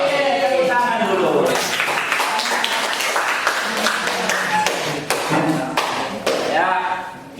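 A classroom audience at an Indonesian language teaching session breaks into clapping, a burst of sharp, uneven hand claps and taps lasting several seconds at close range, with voices mixed in.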